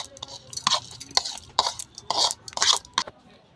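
Drained soaked rice goes into a mixer grinder jar, with a quick run of close scraping and clinking taps of a spoon against the jar.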